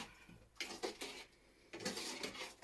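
Milk being stirred into a dough mixture for Easter bread, two bursts of wet scraping and clinking of a spoon against a bowl, close and fairly soft, with a pause between.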